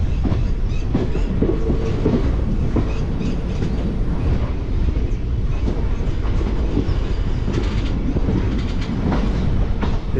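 A passenger train on Indian Railways rolls into Medak station, with a loud, steady rumble and rail clatter from inside the coach, continuous throughout and with no voices.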